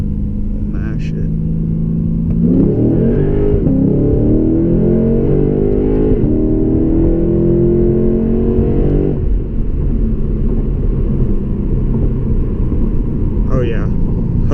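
A Lexus RC F with an aftermarket exhaust pulls hard in first gear, the engine note rising steadily in pitch as it roars, then dropping on the shift and settling into a loud rumble.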